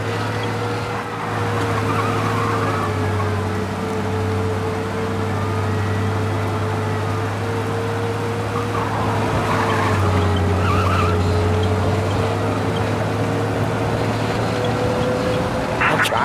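A car speeds along in the video game Mafia: Definitive Edition, its engine holding a constant loud drone while tires squeal and skid in bursts over the top.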